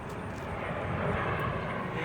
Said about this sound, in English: Apologize for the airplane overhead.